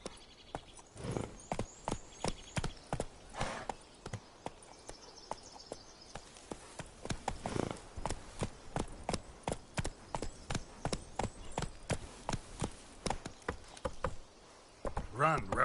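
Hooves of the horse Roach in The Witcher 3 clatter in a fast, steady gallop rhythm, dense and continuous over game ambience, with brief quieter gaps.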